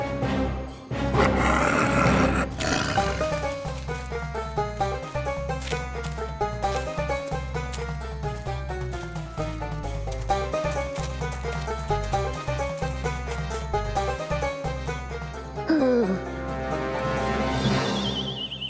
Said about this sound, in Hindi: शेर की गर्जना सुनाई देती है